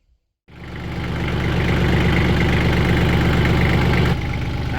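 After a moment of silence, a heavy tractor engine starts up for discing a field and settles into a loud, steady, low chugging idle close by.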